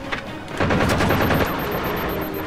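Rapid gunfire in the Halo 4 video game: a dense, loud burst of automatic shots that begins abruptly and rattles on continuously to the end.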